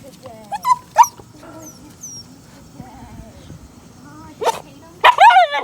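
A German Shepherd whines and gives short barks in scattered bursts near the start and again near the end, fairly close, with quiet stretches between.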